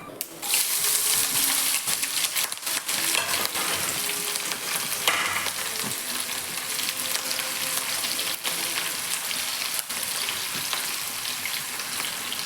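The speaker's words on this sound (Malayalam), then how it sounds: "പച്ചമുളക് ചെറുതായി അരിഞ്ഞത്, അതുപോലെ ഇഞ്ചി ചെറുതായി അരിഞ്ഞത്, ഉണക്കമുളക്, ഇത് എല്ലാം കൂടി ഇതിലേക്ക് ഇട്ടിട്ട് ഒന്ന് വറുത്തെടുക്കണം കേട്ടോ" Finely chopped green chillies, ginger and dried red chillies frying in hot oil, a dense crackling sizzle with sharp pops and occasional spatula scrapes throughout, close and steady.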